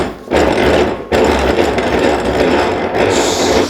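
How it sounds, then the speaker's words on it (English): A hand saw cuts through a piece of wood for a small treasure chest, giving loud, close, rasping strokes. The strokes run almost continuously, with one brief pause before the sawing resumes, and there is no speech. "now I'm gonna saw it"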